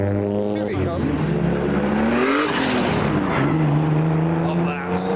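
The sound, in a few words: turbocharged BMW E36 car accelerating past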